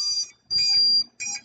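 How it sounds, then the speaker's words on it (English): Electronic alarm on a WhoopLifter safety system beeping in three bursts, each a bright, steady high-pitched tone lasting about a quarter to half a second, clear and close with no talking. "Apologize for the beeping."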